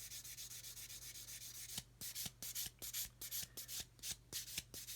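A sanding sponge rubs back and forth over the edge of a seam, starting as a steady continuous hiss and then breaking into a quick, regular series of close, loud strokes.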